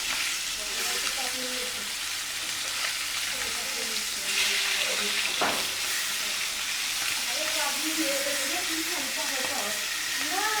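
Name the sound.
pangas fish spluttering while frying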